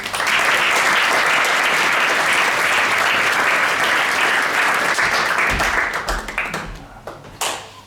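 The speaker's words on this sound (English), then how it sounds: "Big applause for Anton, please." Audience at a science-talk competition semi-final applauds in a dense, sustained burst that thins out and fades near the end, leaving a few scattered claps.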